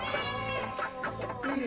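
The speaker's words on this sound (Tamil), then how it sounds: "இதுதான் அம்மா பூனை." A mother cat meows indoors, close and fairly loud, in a drawn-out run of overlapping calls that rise and fall without pause.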